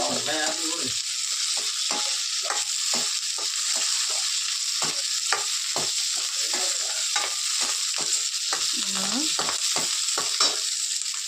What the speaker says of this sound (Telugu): చిట్టుపట్లు ఆడుతాయి అవి. పచ్చిమిర్చి వేసాం కదా.